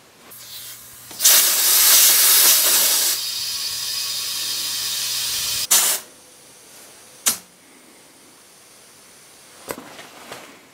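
Compressed air hisses loudly and steadily into a tire through a Schrader valve on a manual tire changer, cutting off abruptly, followed by a few short sharp bursts of hiss.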